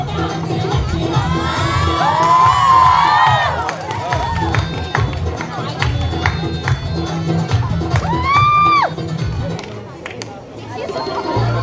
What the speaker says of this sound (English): It's a big hand for applause.